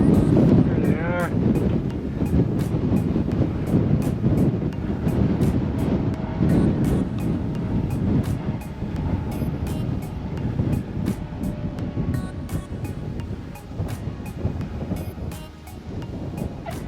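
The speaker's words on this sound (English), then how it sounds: "It might be a little windy out there." Wind buffets the microphone outdoors at an airfield, a constant loud rumbling roar with gusty swells, broken by brief periodic clicks and voices talking faintly underneath.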